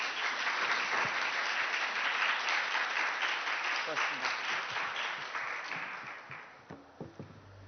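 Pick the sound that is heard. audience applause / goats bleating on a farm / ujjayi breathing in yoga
audience applause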